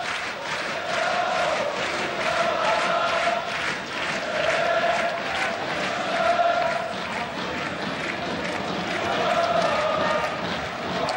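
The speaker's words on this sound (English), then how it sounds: "This crowd never stops, does it?" A packed football stadium crowd roars and chants nonstop during the Galatasaray vs Manchester United Champions League match, a dense rolling wall of voices with rhythmic swells of singing.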